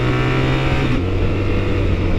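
A 2024 BMW R1300GS Trophy X motorcycle downshifting with its quick shifter, a loud, steady engine drone from on board with the pitch dropping sharply midway as the gear changes.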